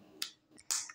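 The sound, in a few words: child clapping hands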